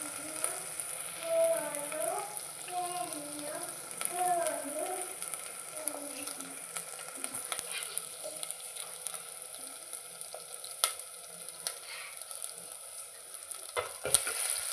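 Onion, green chilli and ginger garlic paste fry in a pan for an okra boondi curry, making a steady close sizzle with occasional stirring scrapes. Someone talks over the first half.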